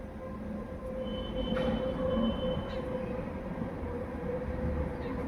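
A train rumbles past steadily at a distance, a low continuous roar with faint metallic squeals from the wheels.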